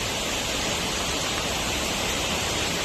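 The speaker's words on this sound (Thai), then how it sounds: "ไฮไลท์ที่อินทนนท์ก็คือน้ำตกแระเชื่อทานตรงนี้นะครับ ก็จะไหลลงมาสู่ ด้านล่างนะครับ" Waterfall at Doi Inthanon in northern Thailand pouring down onto the rocks below, a dense, constant roar of rushing water filling the whole stretch, loud and close, with no voices.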